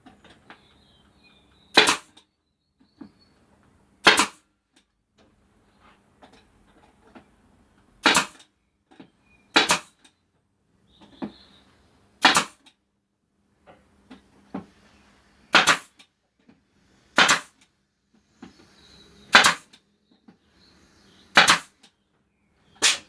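A pin gun fires pins into laminated plywood, giving about ten sharp, loud snaps spaced a couple of seconds apart, each standing alone against near silence.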